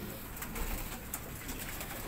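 Soft cooing of pigeons kept as low-flying fancy pigeons in Karachi, against a busy background of rustling and low noise, the calls faint and intermittent.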